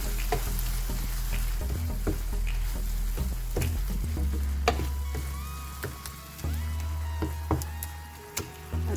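Ginger garlic paste with salt sizzles steadily in a pan for masala okra, while a spatula stirs it with soft scrapes and taps over the constant frying hiss.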